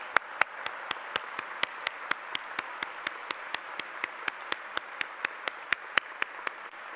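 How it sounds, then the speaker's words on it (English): Applause from a graduation ceremony audience at York St John in 2019: a steady wash of crowd clapping with one close, sharp clapper beating an even, quick rhythm throughout. "I'm sure you would like to join me in giving them a warm round of applause"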